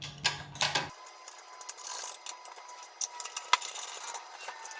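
A 1/2-inch socket wrench tightens bolts on a belt and pulley assembly for a CNC conversion kit, giving quick close ratcheting clicks in short bursts after a brief clatter at the start.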